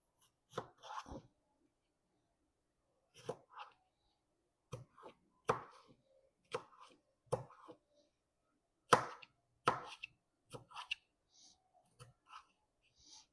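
Knife chopping through tomatoes for a spaghetti sauce, a series of sharp, separate cuts spaced irregularly with quiet pauses between, close and fairly soft.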